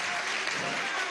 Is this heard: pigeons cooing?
no